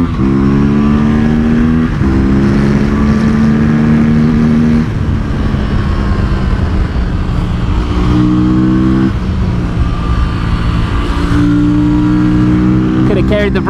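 A small momentum motorcycle runs near wide open, its engine whining loud and steady with stepped pitch rises through the gears, heard close from the bike throughout.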